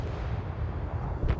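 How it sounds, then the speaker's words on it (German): Cannon fire from Ragnarok tank destroyers in a competitive tank battle game, heard as a muffled, booming low rumble with a sharp crack near the end of the short burst. "da fliegen die Schüsse von den Ragnaröks"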